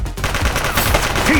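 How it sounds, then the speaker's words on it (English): Rapid bursts of gunfire in the police video game The Precinct, loud and close, sharp overlapping shots filling a brief moment with a faint voice beneath. "He's shooting!"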